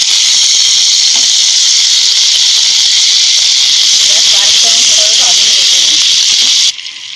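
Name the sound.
crushed green chili paste added to hot pan, sizzling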